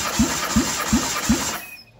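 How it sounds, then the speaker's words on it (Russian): A 1.6-litre Nissan K4M engine in a 2013 Almera cranks on the starter during a compression test of the first cylinder, four even rhythmic compression pulses over a steady whine, then the starter cuts off. "Замер компрессии первый цилиндр."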